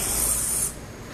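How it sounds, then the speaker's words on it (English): A can of bug spray gives one steady hissing burst, close and loud, for about half a second, then stops. "Bug spray?"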